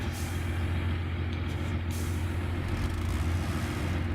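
A tracked PTS-M truck in the MudRunner video game roars with a loud, constant low engine drone and heavy rumble, close and unbroken, with faint hissing bursts over the top.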